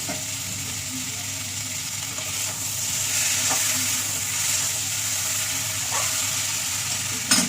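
Katla fish head with spices stir-fried in a pan for a Bengali muri ghonto, steady close sizzling with scraping stir strokes throughout and a sharper clatter near the end, no talking.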